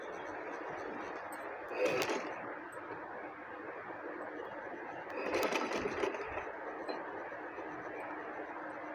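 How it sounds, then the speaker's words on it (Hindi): An electric sewing machine stitches along the side of a decorative blouse neckline, a fine rapid whirring running steadily and close, with two louder bursts as the stitching speeds up briefly. "अब इसी तरह से मैं इस साइड पर भी सिलाई लगाऊंगी।"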